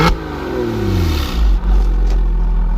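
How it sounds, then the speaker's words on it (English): A 2000 Porsche Boxster S engine revs up close, the flat-six climbing in pitch and then briefly dropping back before holding a steady, loud roar. "Go ahead and rev it up a little bit."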